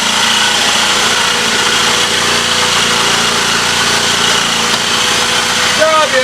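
A continuous loud buzzing whine from a power tool driving self-tapping screws directly into a van's body, steady for the whole stretch, with a voice speaking faintly underneath.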